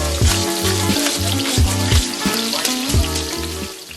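Salmon fillet searing in a hot pan, a steady close sizzle with broadband crackle and a repeating low thumping rhythm running through it, no talking.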